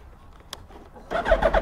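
Motorcycle called Platinum cold starting: quiet shuffling, then at about one second an engine catches and runs with a loud, rough, pulsing idle close by.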